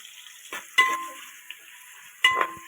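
Brown onions dropped into a pan for prawn dum biryani, with a few distinct stirring clatters and short sizzling bursts against a quiet background, no talk.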